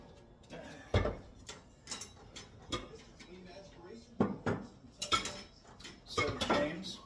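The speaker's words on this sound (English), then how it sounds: "I'm gonna go over here, I'm gonna oil these pans up." Metal baking pans clatter and clink as they are oiled and handled in a home kitchen, in scattered sharp knocks and scrapes with soft talk in between.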